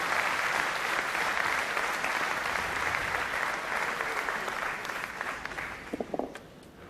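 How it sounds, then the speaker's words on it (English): Audience applause fills an indoor curling arena at the 2009 European Curling Championships, a steady dense clatter of many hands that slowly tapers toward the end. "big round of applause for the Latvians as they leave the ice"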